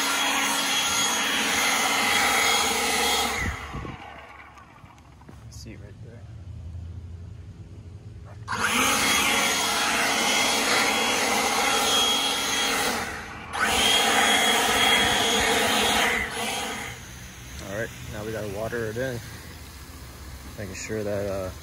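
A leaf blower pushes fertilizer granules off a driveway back onto a lawn. Its loud, steady roar comes in long bursts separated by quieter pauses, and a person talks over and between them.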